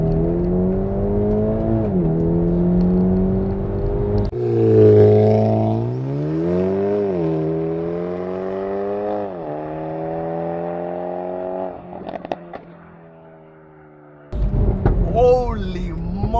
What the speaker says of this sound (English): Let's actually launch this thing.